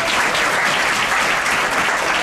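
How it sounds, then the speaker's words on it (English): An audience at a campus conversations event gives a loud, dense round of applause for faculty members, a continuous close-up roar of clapping. "Can we please give them a very big round of applause?"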